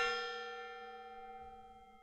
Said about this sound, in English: We did indeed bang a gong.